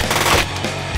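Machine gun fire bursts out in a film trailer, a loud, dense rapid volley of shots filling the whole moment at close range.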